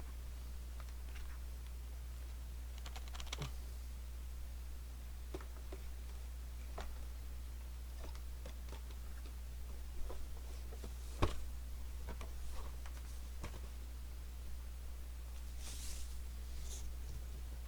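Scattered, irregular clicks and taps from a heavy-duty gaming keyboard, sparse and fairly faint over low steady background hum, with one sharper knock standing out.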